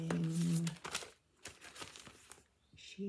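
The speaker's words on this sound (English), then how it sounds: "sorry for the crinkling" Plastic packaging holding handmade resin buttons being crinkled and handled up close, a few quiet crackling bursts separated by short pauses, with faint speech at the start and end.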